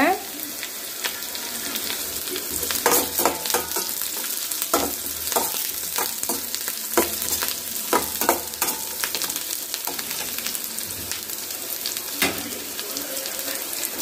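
Okra stir-fry sizzles loudly in a pan as green chili is added, with a steady frying hiss broken by sharp scraping and stirring clicks from a utensil.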